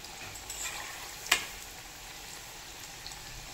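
Corn pakoras frying in hot oil over a medium-high gas flame, a steady soft sizzle with one brief sharp clink partway through, fairly quiet and close, no voices.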